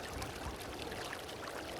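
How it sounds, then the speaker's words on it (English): Water flows underground through an echoing space near an underground waterfall. It is a faint, steady wash of sound, unbroken for the whole stretch, with no voices. "it's possible to hear an echoing sound of flowing water"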